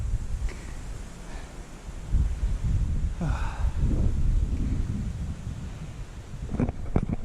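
Strong gusting wind roars outdoors on the exposed climb up Bamford Edge during Storm Ellen, a steady low rumble of buffeting against the microphone that swells around the middle and again near the end, with no talking.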